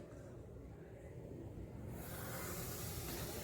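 Quiet, steady fizzing hiss of baking soda mixed with vinegar, growing brighter and louder about halfway through, close up and continuous, with no talking.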